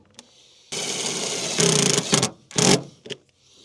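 A power driver buzzes sheet metal screws into a pickup truck's sheet metal in several close, loud bursts: one long run, then shorter spurts separated by brief pauses.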